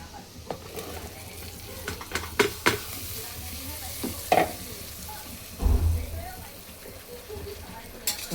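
Homemade masala is stirred in a cooking pan with a spoon, giving repeated scraping clinks over a steady sizzle from the frying food, close by, with a voice speaking at times.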